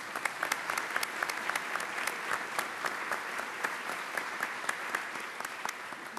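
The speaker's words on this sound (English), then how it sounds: "Let's give them a round of applause." Sustained audience applause at a high-speed rail event, dense and steady clapping with a few sharp individual claps standing out, no voices on top.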